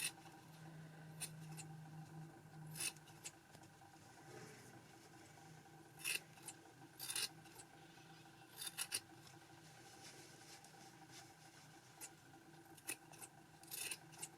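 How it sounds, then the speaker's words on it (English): Scissors snip and trim around a yarn pom pom in a series of short, crisp cuts. The cuts come in scattered clusters at close range over a quiet background. "Continue to trim all the way around"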